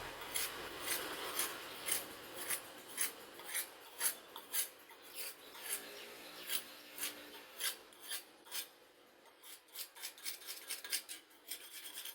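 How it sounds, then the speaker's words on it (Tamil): Light polishing strokes on a handmade cricket bat grip tool make a quiet, rhythmic rasping, a fast steady series of short scrapes repeating about twice a second. Each scrape is close and crisp, with no talk. "இப்போ ஓரளவுக்கு நான் வெட்டிட்டேன் அந்த வெட்டுறதை நான் நினைச்சிட்டேன் அப்படின்னா லைட்டாக பாலிஷ் பண்ணுறேன்"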